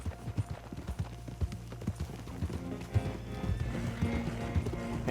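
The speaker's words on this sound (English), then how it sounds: "Parece un caballo mutante" In the video game Red Dead Redemption 2, horse hooves clip-clop in a quick, even rhythm under a game soundtrack that grows busier and more tonal toward the end.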